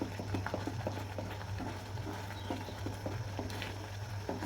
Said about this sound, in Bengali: কেমন ফুটছে দেখুন, কি দারুণ লাগছে দেখুন।